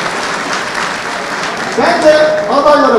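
Applause fills a party congress hall while a voice speaks over it, the clapping dense and continuous throughout.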